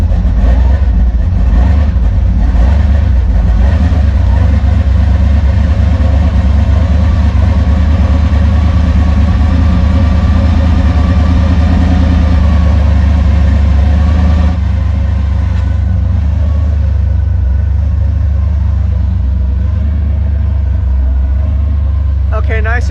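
A race car engine, the Maliboom, idles steadily at close range, a loud continuous low rumble with a constant throbbing drone that stays even throughout, with a slight drop in level partway through.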